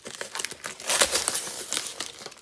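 Plastic wrapping on a signed illustrated edition of Tales of Beedle the Bard crinkles and rustles up close as scissors cut and pull it apart, a short burst of crackling handling noise.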